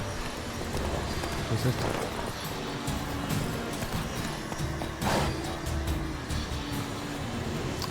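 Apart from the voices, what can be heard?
horse hooves clip-clopping, from the video game The Witcher 3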